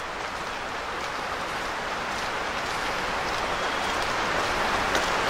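Steady rain pours down in a constant hiss on a foggy day in Jim Thorpe, Pennsylvania, fairly close and unbroken, with no voices.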